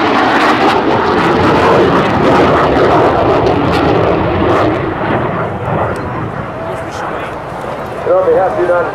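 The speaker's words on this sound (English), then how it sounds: "thank you for allowing us to demonstrate the F-18 Hornet" A US Navy F-18 Hornet jet roars loudly and continuously during an airshow demonstration at the Westfield International Airshow, heard close, with the engine noise slowly easing while an announcer talks over it.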